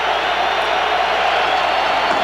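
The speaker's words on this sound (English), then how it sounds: "Tough to hear right now with this crowd." A roaring stadium crowd at the 2001 Ohio State at Michigan college football game, a steady, loud wash of cheering and noise with no breaks.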